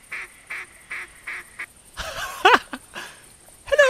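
Ducks quack outdoors in a short run of evenly spaced calls, followed by a burst of louder, more excited quacks and honking nearby.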